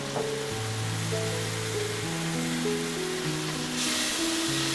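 Tofu stir-frying in a wok with salt, a little soy sauce and Sichuan peppercorn gives off a steady, close sizzle beneath sustained background music, and the hiss swells louder near the end.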